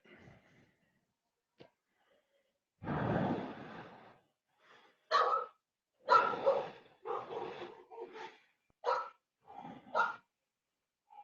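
Dogs bark outdoors at night under a nearly full moon in Atlanta: a string of short, fairly close barks and yips in irregular bursts, with snorting breaths and quiet gaps between them and no voices.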